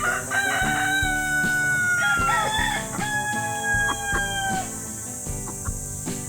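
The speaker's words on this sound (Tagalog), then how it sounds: "Pakain ko sa manok to guys." Chickens, including a rooster, fed superworms: a steady stream of clucking and repeated crowing close by, busy and loud throughout, with no talking.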